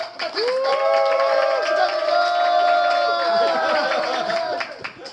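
Audience applause and cheering for a comedian at a scuba diving event, a loud sustained crowd roar with whoops, while a voice carries over it on a microphone or PA throughout.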